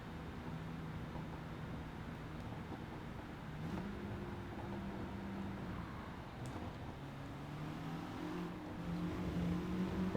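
A race car in Gran Turismo 7 coasting off the power down a straightaway, a steady low engine drone with shifting tonal hum that swells slightly toward the end, heard alone at moderate level.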